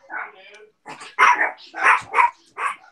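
Several dogs bark in short, loud bursts close by, with a steady run of yaps and woofs that repeats over a few seconds in an indoor home setting.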